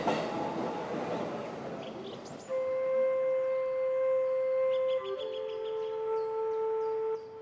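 A Tokyo train heading to Shibuya Station rumbles along the rails with a broad roar, then steady whining tones ring out over the running noise, close and fairly loud.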